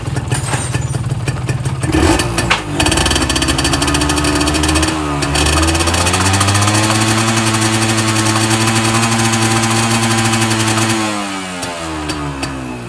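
A Yamaha 125Z motorcycle two-stroke engine rumbles close by, revving up once and settling into a steady idle before the throttle drops near the end.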